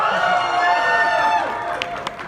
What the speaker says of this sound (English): with the cheering, I'm not going to get through the names